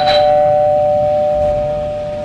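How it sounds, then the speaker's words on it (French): Doorbell rings loud and close at the start of a scene from the TV crime series Derrick, its two steady tones then holding on alone with faint background noise. "Parce qu'il n'a pas entendu la sonnerie?"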